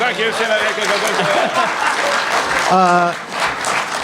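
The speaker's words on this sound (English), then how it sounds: "Big round of applause." An audience applauds at the Boston Comic Con 2012 panel with two comic creators, loud and continuous, while a voice talks over the clapping.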